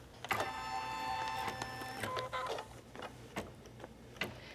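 A home embroidery machine stitches a basting line to hold fabric to the hoop for a clutch purse, giving a fast, quiet mechanical ticking with a few sharper clicks, close and steady with no talk.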